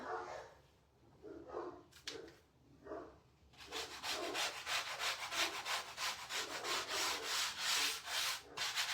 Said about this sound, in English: let me sand that down real quick while we are talking